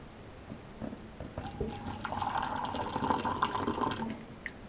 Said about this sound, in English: I got some boiling water over here, so I'm going to pour a little bit in here